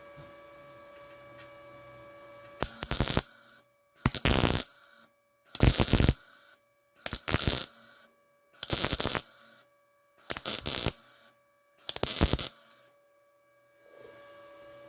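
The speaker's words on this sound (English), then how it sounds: "hold the trigger, let it weld, move to the next one" Arccaptain MIG 200 welder on auto-stitch mode, laying seven evenly spaced bursts of crackling arc, each about a second long with short pauses between, over a steady electrical hum.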